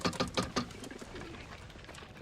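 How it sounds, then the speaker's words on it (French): Pigeons coo in a few soft, throaty bursts near the start, then fade into a quieter background murmur. "Ces pauvres pigeons sont même pas capables de faire le tour du pâté de maison."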